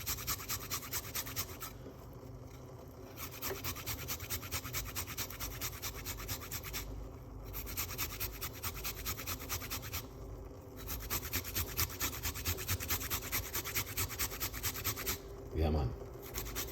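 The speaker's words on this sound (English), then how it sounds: "We're gonna grate this little piece of a ginger right here." A small piece of ginger is grated in steady rapid scraping strokes, continuous and close, with brief pauses between passes and a light knock near the end.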